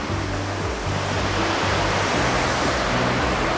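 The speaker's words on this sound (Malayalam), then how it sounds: "ഇത് താഴെ ഇങ്ങനെ വെള്ളച്ചാട്ടം ഒഴുകി പോകുന്നത് നമുക്ക് കാണാം കേട്ടോ" A waterfall rushes steadily below a resort in Munnar, a broad even roar of falling water heard alone at a moderate distance.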